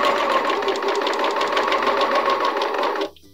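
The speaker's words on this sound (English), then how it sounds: "Let's go ahead and serge all these layers together." Serger stitching through layers of swimsuit fabric and elastic, a fast steady mechanical whir running continuously at close range for about three seconds, then stopping abruptly.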